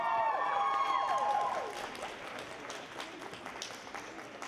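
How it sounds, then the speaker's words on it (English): Audience at a cosplay contest clapping and cheering, the applause swelling briefly with a whistle-like tone at the start, then settling into steady, moderately loud clapping from a large crowd. "Another round of applause, please."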